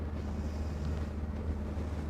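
A boat's outboard engine idles with a steady low rumble on and on while leaving a harbour in northern Norway, mixed with wind buffeting the microphone and faint water noise.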